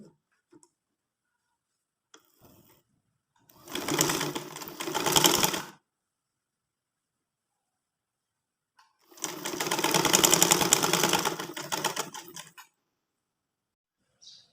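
A sewing machine stitches trouser fabric in two steady whirring runs of rapid needle clatter, each lasting about two to three seconds, separated by a quiet pause.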